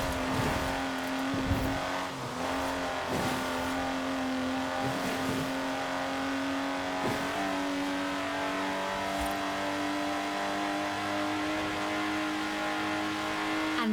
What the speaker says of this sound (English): the Exige is uncompromising.